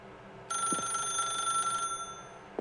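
A telephone rings in a video game, a steady electronic ring with a sharp start that holds for about a second and a half before cutting off, over low background noise.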